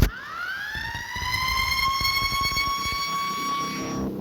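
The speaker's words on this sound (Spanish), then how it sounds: "las alarmas comenzaron a sonar con una intensidad ensordecedora" Loud, continuous prison alarm siren wailing, a rising electronic tone that climbs then holds steady with strong harmonics for about four seconds, sounding alone.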